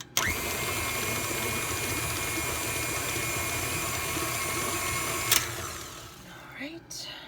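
An electric mixer beats a butter mixture for peanut butter cookies with a steady, whirring mechanical drone that runs for over five seconds before stopping, followed by a few light clatters.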